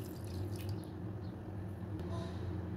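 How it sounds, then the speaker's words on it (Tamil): One litre of milk pours steadily into a pan for bread rabdi, making a continuous soft liquid rush with a faint low hum and no speech. "இந்த மாதிரி பேனில் ஸ்ப்ரெட் பண்ணிவிட்டு நான் 1 லிட்டர் மில்க் ஆட்"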